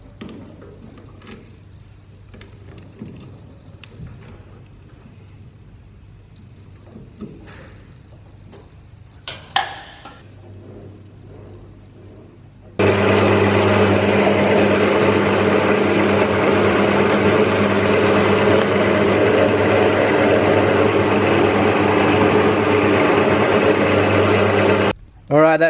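Metal lathe turning a steel shaft down to 18 mm, starting halfway through as a steady, loud, continuous machining hum that runs for about twelve seconds, after quieter workshop handling noises and brief clanks.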